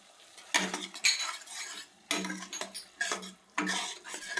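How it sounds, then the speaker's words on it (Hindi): A metal spoon clinks and scrapes against a pan, stirring soy sauce, vinegar and ketchup into spices in a few separate bursts of close, bright clatter with short pauses between. "अब अच्छे से मैंने मसालों में सॉस को मिला लिया है"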